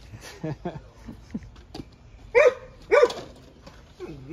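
A dog barks nearby outdoors in a garden, a handful of loud, sharp barks, two especially strong, scattered between a man's ongoing speech.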